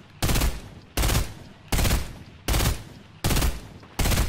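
Video game gunfire in five evenly spaced bursts, each a loud rapid rattle of shots lasting about half a second, separated by short quieter pauses.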